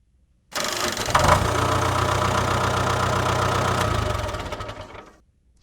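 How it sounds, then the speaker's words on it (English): A tractor engine starts up and runs steadily at a low, throbbing idle for a few seconds before cutting off, loud and close. "Tractor."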